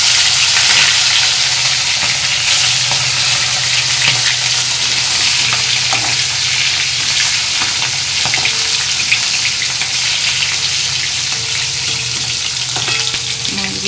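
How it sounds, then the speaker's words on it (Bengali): Fish fries in hot oil in a wok, giving a loud, dense, steady sizzle with faint crackles throughout and no talking. "তো দেখো আমার কড়া গরম হয়ে গেছে, আমি এক এক করে মাছগুলো ভেজে নেব।"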